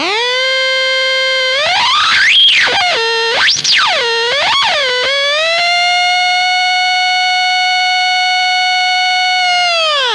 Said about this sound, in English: It's not completely necessary that you have to have a Fuzz Factory in there.